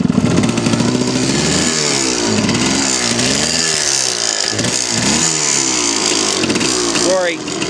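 A restored 1985 Yamaha Tri-Z 250 two-stroke three-wheeler engine running close by, loud and buzzy, with repeated revs rising and falling and an uneven idle between.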